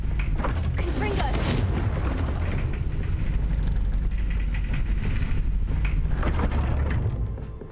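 A Confringo blasting spell cast in Hogwarts Legacy, a loud rumbling explosion with heavy low booms and crackling debris that rolls on for several seconds before fading out at the end.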